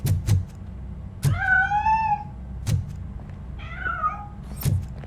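In RoboCop: Rogue City, a fleeing cat gives two drawn-out meows amid soft thumps and footfalls, close and clear with no talk.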